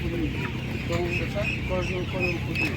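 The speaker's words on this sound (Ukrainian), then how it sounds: "Приємна курка." Hens at an outdoor animal market give a run of clucks and short calls, moderately close, over steady market hubbub with people talking in the background.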